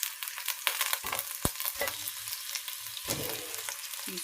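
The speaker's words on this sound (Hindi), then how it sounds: "इसको भी फ्राई करेंगे अच्छी तरह।" Chicken fries and sizzles in a pan for biryani, a quiet, continuous crackle broken by scraping stirs and occasional clatters of a utensil, with no talking.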